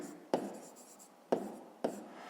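A pen taps and scratches on paper while a maths exercise is written out by hand, three distinct strokes spaced apart, quiet and close, with no talking.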